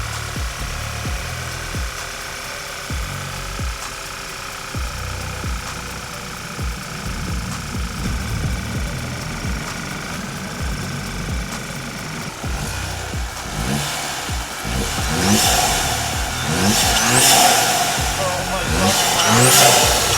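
A modified Audi engine fitted with 034 performance parts idles and then revs in repeated rising bursts, loud and close, growing stronger toward the end, with people talking over it.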